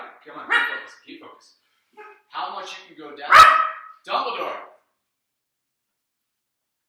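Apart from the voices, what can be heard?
dogs barking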